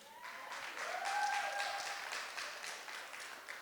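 Applause from a family reunion gathering fills the room in a sustained, even wash of clapping, with a brief whistle or tone rising partway through and no talking over it.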